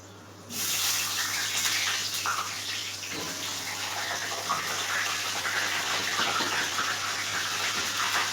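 Water hits hot frying oil in a home kitchen, setting off a loud, steady hiss and crackle that starts abruptly and continues without letup.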